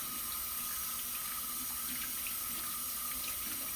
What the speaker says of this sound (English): you're going to leave your water running